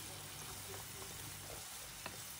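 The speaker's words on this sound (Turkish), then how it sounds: "ilave ederek kavurmaya devam ediyorum" A pot dish with peas sizzles and fries in a pan while it is stirred. The sizzle is soft and steady, with a few faint clicks of a utensil and no voices.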